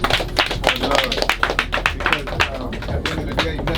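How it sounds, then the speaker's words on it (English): Applause on a boat cruise, a close, fairly small crowd clapping with distinct individual hand claps in a quick, uneven rhythm that continues throughout. "So give everybody a warm round of applause"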